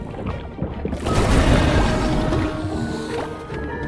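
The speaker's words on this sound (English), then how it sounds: "Submerge those healthy hands into the cauldron." Liquid sloshing and splashing as hands plunge into a bubbling cauldron in a VR hand-tracking alchemy game, a dense, close wet churning that swells after the first second and holds steady, with no talking.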